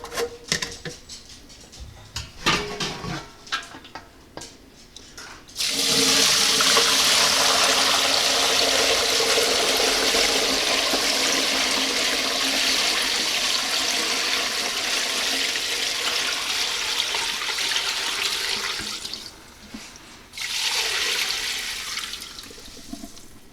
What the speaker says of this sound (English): now I'm just going to pour it through my fine sieve